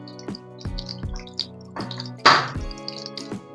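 Sliced onions fry in hot oil in a pan for crab curry, giving sparse crackles and pops over a quiet background, with one louder sizzling burst midway.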